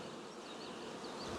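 Honey bees in a working hive buzz steadily and close at hand, a dense continuous drone with a few individual bees whining past; no voices.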